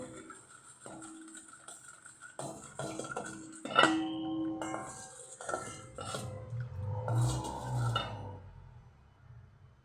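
A spoon stirs milk and powdered sugar together in a bowl, giving a quiet string of clinks and scrapes against the dish with a few sharper taps partway through, close by and otherwise calm.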